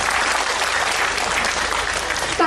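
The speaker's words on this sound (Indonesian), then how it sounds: "Ayo tepuk tangan dulu buat semuanya." An audience claps at an Islamic religious study gathering led by a cleric, producing steady, dense applause from a large crowd that continues evenly throughout.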